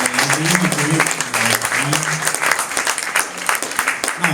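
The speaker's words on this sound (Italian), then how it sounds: "un applauso per Albino." Audience applause at a book presentation, a loud burst of many hands clapping that gradually thins, with a voice talking over it near the start.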